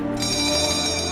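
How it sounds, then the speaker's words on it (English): A boxing bell rings to open the round of a heavyweight bout between two undefeated fighters, a sustained metallic ring held for about a second over steady arena crowd noise. "And then the bell rang."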